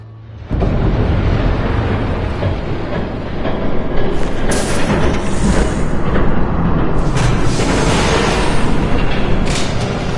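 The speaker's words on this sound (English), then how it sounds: "There's a train coming." Train passing by in Batman: The Telltale Series, a loud sustained rumbling roar that starts abruptly and swells around the middle, heard alone without speech.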